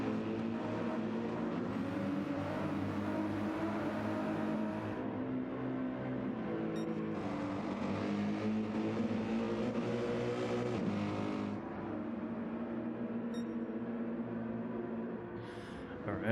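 Mercedes race car engine in a Daytona 24-hour racing video game, droning steadily with layered engine harmonics shifting as it revs and holds pitch, continuous and fairly quiet with no talking.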